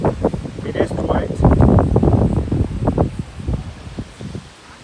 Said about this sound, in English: You can see there the effect of hard flow of the wind.